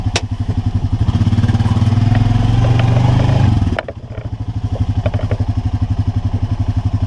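Honda Pioneer 500 UTV engine in reverse gear revs loudly and evenly for a few seconds, then drops abruptly to a rhythmic, chugging idle, close up and without talk.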